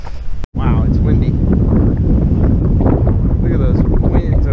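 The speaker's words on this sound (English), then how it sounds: "Wow, it's windy." Strong wind roars and buffets the microphone in a constant low rush at Harburg harbor near Hamburg, with a voice faintly present beneath it.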